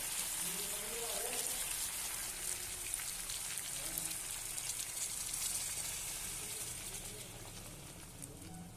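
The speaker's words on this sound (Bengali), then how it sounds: "এবার আমি গরম জল দিয়ে দেবো।" Hot water poured into a pan of chicken curry with potol and potato, a continuous hissing, splashing sizzle like rain on a hot surface, close and steady, fading slightly toward the end.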